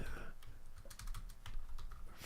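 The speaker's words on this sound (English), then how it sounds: "I'll type it." Someone types on a computer keyboard, a quick run of close, crisp key clicks over a low background hum.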